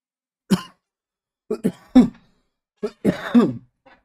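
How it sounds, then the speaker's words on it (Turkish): A series of harsh coughs and throat clearing, coming in short bursts with pauses between them, close and alone. "Küçük bir öksürük molası arkadaşlar."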